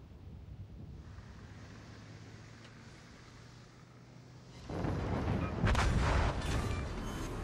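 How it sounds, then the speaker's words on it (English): Torpedo hits on a battleship in the World of Warships naval game, heard as a low rumbling roar that swells abruptly into heavy booming explosions with rushing, spray-like noise, loud and close. "Six torpedo hits, one devastating strike, one enemy battleship out of the game."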